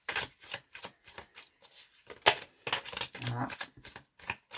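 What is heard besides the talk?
shuffling oracle cards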